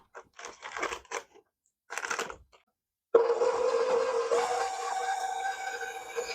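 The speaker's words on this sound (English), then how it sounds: "I'm using my stand mixer and I'm going to add the paddle to my machine, and I'm going to start" Stand mixer fitted with a paddle, creaming margarine and sugar: a few short clattering bursts of the machine starting and stopping, then a steady loud whirring motor hum with a rising whine that runs on continuously.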